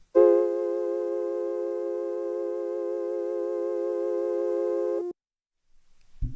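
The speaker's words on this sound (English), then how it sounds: "for now I think we're going to leave it on quite a slow sine wave going left" Synthesizer tone with a slow sine-wave LFO panning left to right, a steady harmonic drone with gentle wavering that holds for about five seconds, then cuts off to silence.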